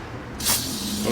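Carburetor cleaner sprayed onto the carburetor of a Honda 5 hp outboard motor: a single loud hissing spray burst, close by, following a moment of quieter background noise.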